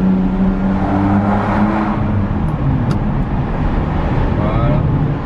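A manual-gearbox Ferrari's V12 engine roars as the car accelerates, a loud, steady rising growl heard from inside with some wind noise, while a person talks over it.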